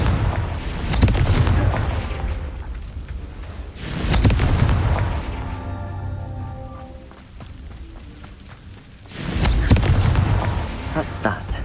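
Confringo fire spell explosions in the video game Hogwarts Legacy. Three loud, heavy booming blasts a few seconds apart, each with a rumbling tail, and softer tonal game sounds in between.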